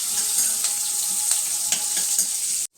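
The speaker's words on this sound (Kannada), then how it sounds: "ಆ ಕಡಾಯಿಗೆ ಒಂದು ಸ್ವಲ್ಪ ಎಣ್ಣೆ ಹಾಕ್ಬಿಟ್ಟು ಅದಕ್ಕೆ ಸಾಸಿವೆ, ಜೀರಿಗೆ ಮತ್ತು ಒಂದು ಸ್ವಲ್ಪ ಉದ್ದಿನಬೇಳೆ, ಕಡಲೆಬೇಳೆ ಹಾಕಿದ್ದೀನಿ" Mustard seeds, cumin and lentils sizzle in oil in a kadai, a dense steady hiss with small pops and crackles scattered through it that stops abruptly at the end.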